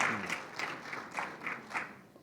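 A church conference audience claps, giving a few bursts of rhythmic applause that sound moderately near but fairly quiet. No voices are heard over the clapping.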